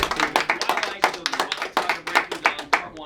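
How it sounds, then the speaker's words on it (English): Scattered, uneven clapping from a small audience at a radio station event, a handful of people clapping near the microphone in irregular bursts, with faint voices underneath. "All right, big round of applause."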